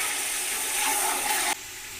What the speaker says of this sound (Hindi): साथ ही इसमें वो जो हमने एक गिलास पानी रखा हुआ है वो इसमें